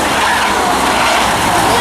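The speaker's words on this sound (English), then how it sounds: "Bruce Knight locks up the 57, and he gets it eventually turned" The number 57 race car in a claimers race locks its brakes and skids, a loud, continuous broadband tire scrub lasting the whole moment, with commentator-like talk mixed in.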